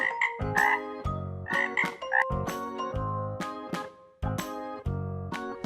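A frog croaks in a quick series of loud, close calls, short bursts separated by brief pauses, with a bright tinkling jingle running underneath throughout.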